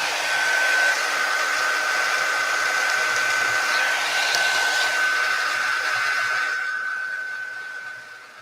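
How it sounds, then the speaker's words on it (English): A heat tool blows steadily to heat-set embossing powder on a handmade card, a close, even fan roar with a high whine that holds for several seconds and then fades out near the end. "I'm going to heat set this with my heat tool."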